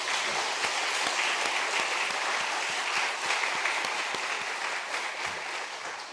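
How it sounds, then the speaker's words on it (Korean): Congregation in a church service claps in welcome, a sustained, even round of applause that fades slightly at the close. "우리 박수로 좀 격려해 드립시다"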